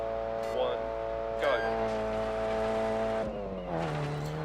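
A rally car in the game Dirt Rally drives on gravel, its engine droning with rising and falling gear tones, tires scrabbling and skidding as traction is lost, under continuous talk.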